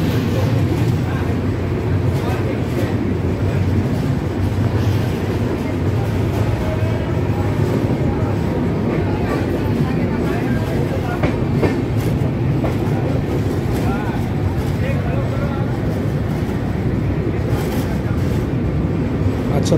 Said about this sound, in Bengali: ট্রেন মনে হয় ছেড়ে দিচ্ছে এখন।